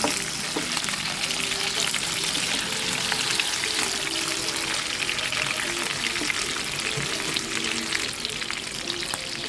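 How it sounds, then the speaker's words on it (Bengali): Pieces of pomfret fry in hot oil over medium heat, giving a loud, dense, continuous sizzle and crackle that holds steady from start to finish. "সমস্ত মাছগুলোকে আমি খুব ভালোভাবে ভেজে নিচ্ছি"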